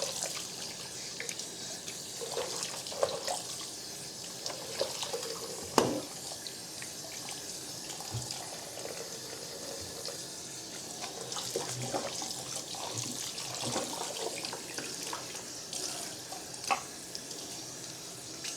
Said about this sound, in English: when you rinse it, you see the water very clear